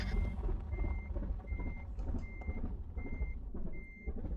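A truck in a video game sounds a steady run of reversing beeps, six evenly spaced tones over a low idling engine rumble while it backs up in a tight yard.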